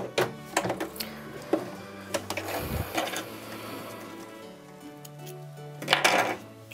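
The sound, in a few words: sewing machine stitching a zipper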